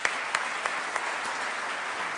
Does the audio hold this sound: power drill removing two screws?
no